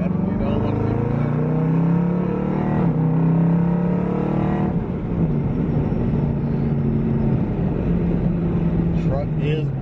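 Built Jeep Trackhawk, its engine droning loudly and rising in pitch under acceleration, with someone talking over the steady roar throughout.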